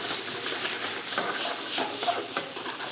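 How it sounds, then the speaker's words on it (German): Butter and sage stems sizzle in a hot pan while zander fish fillets pan-fry, a steady close hiss and crackle running throughout with no talking. "Und schön anbraten."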